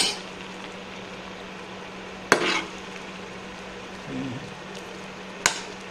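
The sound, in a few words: cucumber pieces boiling with salt and turmeric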